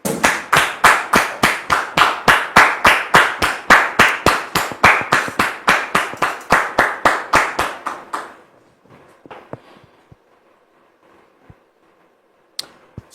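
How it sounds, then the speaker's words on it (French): A studio audience claps in unison to welcome a guest, about two dozen loud, evenly spaced rhythmic claps that fade out, followed by near silence with a few faint knocks. "sous vos applaudissements."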